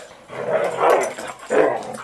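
A dog barks and growls in a few loud, close bursts, with no talking.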